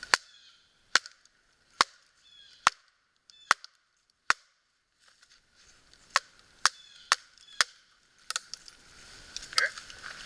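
Axe blows splitting a stubborn firewood log at an autumn canoe campsite, a dozen sharp, fairly close wooden cracks at an irregular pace, with faint outdoor ambience between strikes.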